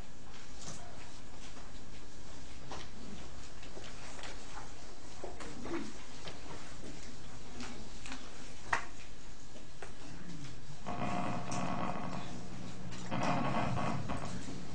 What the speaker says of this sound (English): each click is the sound of an action potential being recorded from a particular cell